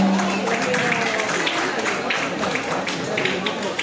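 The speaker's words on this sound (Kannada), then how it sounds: "ದೊಡ್ಡ ಚಪ್ಪಾಳೆ." Steady applause from an audience at a Basava Jayanti gathering, dense continuous clapping that stays even throughout with no talk over it.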